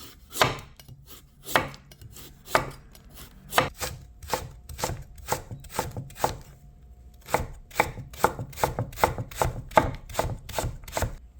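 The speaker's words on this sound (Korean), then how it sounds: "좀 얇게, 얇게 썰게요." A knife slices vegetables thinly for kimchi on a cutting board, producing a steady run of crisp, close chopping taps at a brisk, even rhythm with a brief pause midway.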